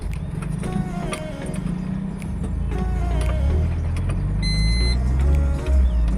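A car rolls and jolts over a sunken, damaged road surface worn down by heavy trucks, with a steady low rumble of tyres and engine and faint knocks and rattles throughout.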